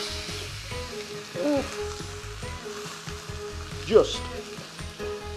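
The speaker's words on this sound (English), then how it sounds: "I'm going to try and squeeze this this meat into the pan." Beef rib searing in a red hot pan, a strong close sizzle with bursts and clatter as the meat is pressed in, a short spoken word partway through.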